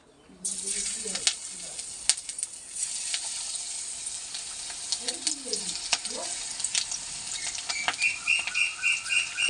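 Potato peels with poppy seeds go one at a time into hot oil, bursting into a close, bright sizzle that crackles and spits steadily. A voice briefly murmurs near the start and again midway.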